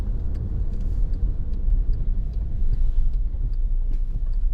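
A 2015 Volkswagen Tiguan 2.0 TDI BlueMotion diesel with 4MOTION drive, heard from inside while driving: a steady, loud low engine and road rumble that runs throughout with no break.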